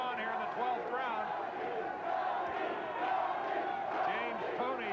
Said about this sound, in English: the crowd here at the Hilton, many of them come to their feet to try to urge their respective fighter on here in the 12th round